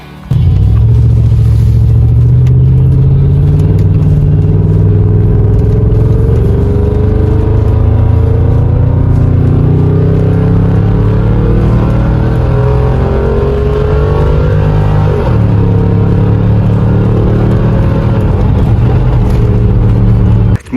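A supercharged Land Rover Discovery 4 engine pulls hard in a loud, continuous rumble that rises in pitch through gear changes, recorded from close by with no voices.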